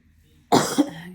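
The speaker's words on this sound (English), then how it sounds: "I am fighting a little bit of a cold, so I am sorry if there is some coughing." A single sharp cough from a person with a cold, close and fairly loud, breaking a quiet pause with a short second burst right after.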